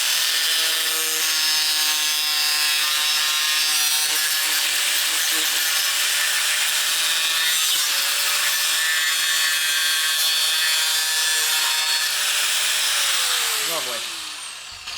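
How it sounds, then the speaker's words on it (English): Continuous high-pitched power-tool cutting through the plastic hugger of a Honda Grom motorcycle, a steady close grinding whine that runs for the whole span and tapers off at the end. "we need to cut off 30 to 35 millimeters of the hugger right here"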